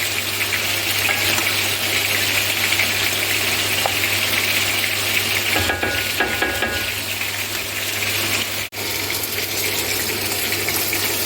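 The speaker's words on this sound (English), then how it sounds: "And carry on frying." Diced and sliced red onion sizzles and crackles steadily in a hot pan for a chicken and chorizo risotto, with a brief clatter of stirring partway through and no talking.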